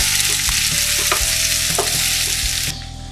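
Chopped onion and cumin seeds fry in hot oil in a pan, a steady loud sizzle throughout, with a few stirring scrapes, easing off slightly near the end.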